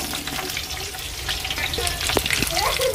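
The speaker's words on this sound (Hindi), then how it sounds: "अब इसमें तेल ऐड कर देंगे हम, जो प्याज खड़े मसाले हैं वो सब इसमें ऐड कर देंगे" Onion and whole spices fry in oil in a kadai for a gravy, giving a steady close crackle with scattered pops and a brief scrape of stirring.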